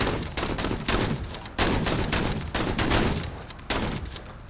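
Shotguns blasting away at a fortress in the strategy video game Menace, a dense, continuous barrage of overlapping gunfire bursts with short breaks, loud and close.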